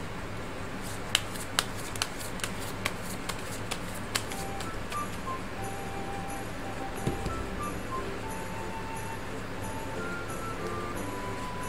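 Tarot cards being shuffled for a monthly horoscope reading give a run of crisp, snapping riffles in the first few seconds, then quieter slides and taps over a steady background hum.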